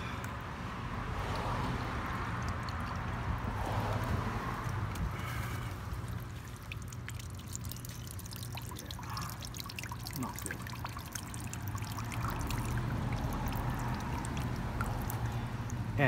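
Distilled water flushes through the radiator of a 2001 Triumph Sprint RS 955i motorcycle, a soft, steady trickle and pour of liquid at low level, continuous throughout with faint background hum.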